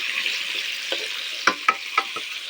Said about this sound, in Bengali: আলুটা দিয়ে দিয়েছি তেলে এখন ভাজতে আমি আলু ভাজা হচ্ছে